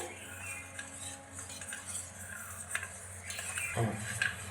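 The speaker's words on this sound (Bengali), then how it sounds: "এইভাবে অনবরত নাড়াচাড়া করতে হবে যেহেতু কর্নফ্লাওয়ার দেওয়া আছে না নাড়লে বসে যেতে পারে" A spoon stirring homemade rose cream thickened with cornflour in a pan, giving soft continuous scraping with faint metal clinks against the pan, quiet and close, no voices.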